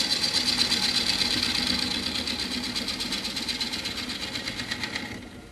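A wood lathe spins steadily while a turning tool takes a light, smooth cut into a tree section, giving a close, continuous whirring hum with a fine rapid chatter that fades out near the end.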